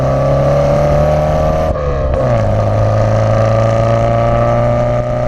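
Car engine running through a stainless steel exhaust system, a steady loud drone with a strong low rumble, briefly dipping in pitch near the two-second mark before settling back into a continuous note.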